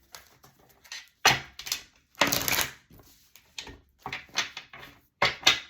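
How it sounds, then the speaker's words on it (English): Oracle cards are shuffled by hand in a series of sharp, uneven riffling bursts separated by short pauses, close and crisp with small taps and rustles between them. "But I don't always shuffle the cards like this."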